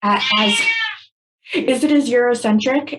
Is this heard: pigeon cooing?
no